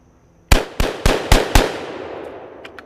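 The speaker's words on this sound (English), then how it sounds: "Now let's fire out these last 5 rounds." A gun fires its last five rounds in quick succession, each a sharp, loud report with a decaying tail, evenly spaced over about a second, followed by faint clicks.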